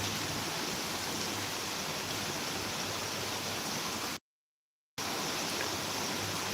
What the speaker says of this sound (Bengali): এখন ঢাকাতে বৃষ্টি হচ্ছে এই কনফার্ম আপনাদের করতেছি